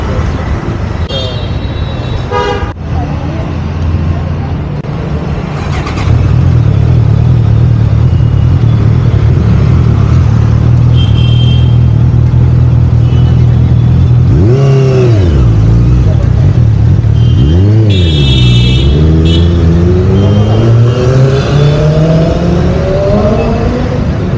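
A new Honda motorcycle's engine idles with a low, steady drone, then is revved several times, the pitch climbing and dropping in sweeping surges, while people talk nearby.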